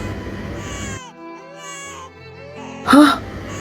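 An infant cries in a short burst of wailing sobs, fairly close and loud, with a sharp rise near the end over a busy background of other sounds.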